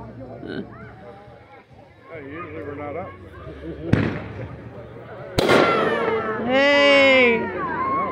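Fireworks set off outdoors on a cool New Year's Eve night pop in sharp bangs, with a loud crack and crackling burst, alongside a meowing cat and voices nearby.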